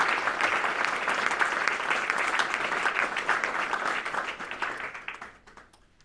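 Applause from the audience at a general assembly, a steady dense wash of many hands clapping for several seconds before tapering off near the end.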